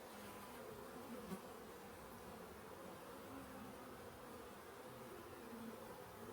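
Honey bees hum at an open hive during a check of honey supers, a soft, continuous buzzing drone that stays steady and fairly faint throughout, with no talking.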